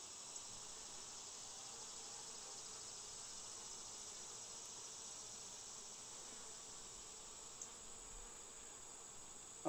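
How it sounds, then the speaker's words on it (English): A cicada in a pear tree drones steadily at a high pitch, buzzing continuously without pause, faint and distant, with no voices. "So we have one of those cicadas right there in the pear tree. And it's singing."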